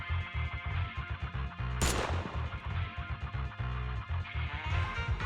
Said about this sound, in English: Yep, that sure was a barrage of bullets, not a single gunshot, that MP3.